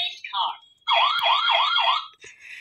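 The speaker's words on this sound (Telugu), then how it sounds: "Next police car." A police car siren played by a children's electronic sound book rises and falls in a fast warbling pattern, loud and close, following a brief electronic tone.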